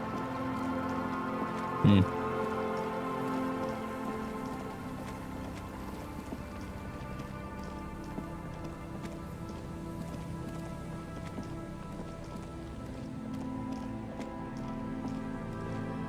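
Water running from a broken pipe in Disco Elysium, a steady rushing, rain-like wash of water that continues throughout, with a brief knock early on.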